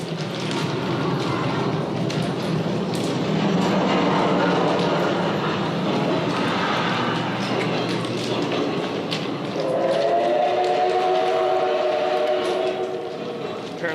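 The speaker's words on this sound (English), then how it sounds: "that's one of those old steam trains" A recorded old steam train sound effect played through speakers inside an old railway tunnel in Japan. It is a continuous loud rumble with a sustained whistle-like tone entering toward the end.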